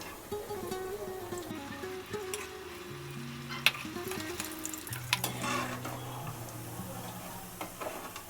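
Mixed sprouts vada deep-frying in hot oil, a steady soft sizzle and bubbling at moderate distance with occasional clicks and taps, while gentle background music plays.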